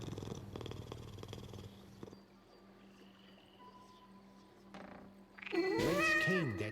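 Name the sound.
cat purring in video game Dishonored 2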